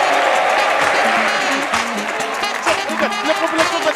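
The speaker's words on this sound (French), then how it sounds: "faites beaucoup d'applaudissements aux zinzins de l'art" Audience applause at a comedy show in Côte d'Ivoire, a dense wash of clapping with some crowd noise and speech mixed in throughout.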